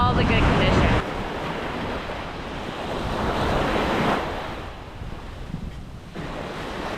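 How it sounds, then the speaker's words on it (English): Ocean surf rolls in at Pensacola Beach on a breezy morning with choppy water, a broad steady roar of waves rising and falling with heavy wind buffeting the microphone. "I have a nice breeze going on, chop on the water, all the good conditions."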